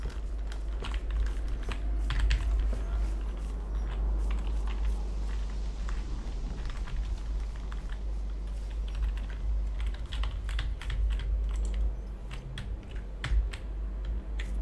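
A computer keyboard clatters with continuous, fast typing, irregular clicks of keys close by over a low constant hum, with no talking.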